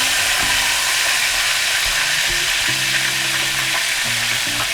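Coconut milk sauce with tilapia boiling and sizzling in a pan, a dense steady bubbling hiss, close and continuous, with light clinks of utensils and no talk.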